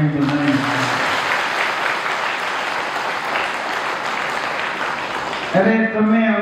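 Audience clapping during a Ram Katha religious discourse at a Veermata puja gathering in Gandevi, dense sustained applause from a crowd that fades as a voice resumes talking.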